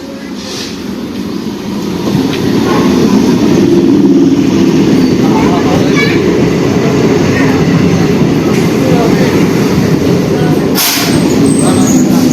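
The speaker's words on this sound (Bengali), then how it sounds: "এখনই আমাদের ট্রেন এসে যাবে" A train arrives at a station, rumbling steadily and loudly nearby, a continuous low roar of wheels and engine that builds early and holds, with faint voices underneath.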